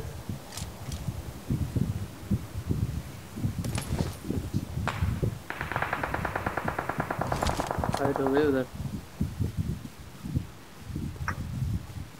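Scattered sharp gunshots crack in the mobile battle royale game BGMI, several spaced bursts at moderate distance, heard under ongoing voice-chat talk along with a steady tonal in-game sound in the middle.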